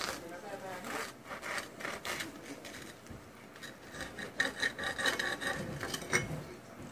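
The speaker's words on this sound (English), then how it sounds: "we're gonna cut up into our sandwich right here, right now" A knife saws through a Cuban sandwich in close, crunchy rasping strokes of crusty bread, repeated scraping cuts running steadily throughout.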